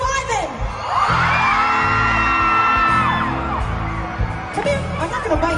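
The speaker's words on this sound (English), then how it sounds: "Ladies, make some noise if you would do Ivan" A concert crowd of mostly women at a show screams and cheers loudly for several seconds, a dense wall of high shrieks and whoops that swells and then fades. Shouted talk comes before and after.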